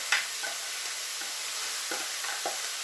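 Marinated beef going into a pan of lightly browned onions for a spiced beef sauté, a continuous close sizzle broken by several short stirring scrapes, with no voices.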